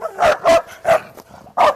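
A Belgian Malinois barks four or five times in quick, loud, close succession, with sharp separate woofs and a short gap before the last.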